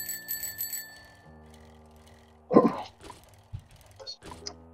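A bicycle bell rings in quick repeated dings inside a video game, the Big Cities Mod, followed by game clatter and a voice talking over it.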